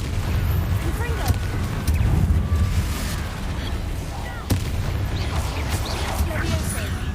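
Confringo blast spells exploding in the Hogwarts Legacy video game, giving a series of booming, crackling blasts and sharp impacts over a continuous rumble of battle, with talk heard throughout.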